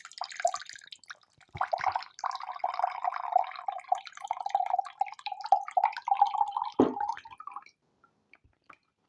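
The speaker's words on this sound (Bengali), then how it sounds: "এর মধ্যে আমি কুসুম গরম পানিটা ঢেলে নিচ্ছি।" Warm water pours from a flask into a mug in a close, steady trickle for about seven seconds, then cuts off, leaving near silence.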